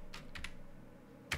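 A few quiet, crisp computer keyboard keystrokes come in a short burst as a command is typed, followed by a pause and one last sharper key press.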